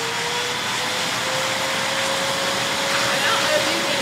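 A Gerefet pet grooming vacuum runs with its heat turned on, giving a steady, loud, broadband rush of blowing air with a faint constant whine, unchanging throughout.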